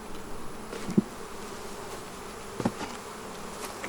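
Honey bees buzz steadily around a hive in a beekeeping yard during feeding and hive-beetle clearing, a continuous faint drone with a couple of brief louder bumps.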